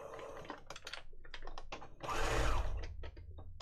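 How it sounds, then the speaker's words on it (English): A sewing machine stitches paper pages for a junk journal and reverses to lock the stitches. Close mechanical clicks and clatters come first, then a louder whirring burst of stitching, then a few more clicks. "So back to the machine, same old thing. Bit of reversing, lock the stitches."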